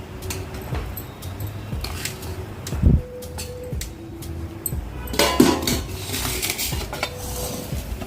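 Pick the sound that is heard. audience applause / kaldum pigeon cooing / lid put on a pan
lid put on a pan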